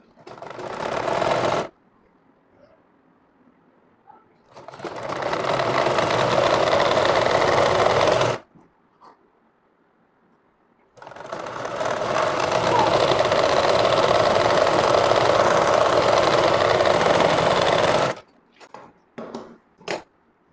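A sewing machine double-stitching a frock, running in three steady whirring spells, one short and two longer, separated by near silence, ending in a few quick stop-start bursts.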